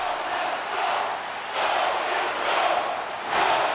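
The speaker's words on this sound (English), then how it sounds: "You can feel the energy in this crowd." Hockey arena crowd in NHL 24 during a tied Memorial Cup final between Kamloops and Shawinigan, a loud continuous roar of cheering fans that swells in waves, with no commentary over it.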